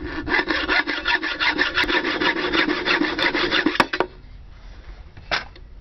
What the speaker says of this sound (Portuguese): Com uma lima, retira-se esse excesso.